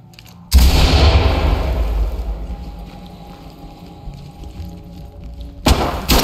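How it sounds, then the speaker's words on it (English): A loud flashbang detonation in the tactical shooter Ready or Not, a sudden heavy bang that rings and decays for several seconds, followed by a second sharp blast near the end. "Open clear with flashbangs."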